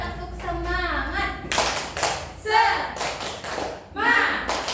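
Children in a classroom clap in rhythmic bursts during a tepuk semangat chant, sharp group claps alternating with sung, chanted voices, close and lively.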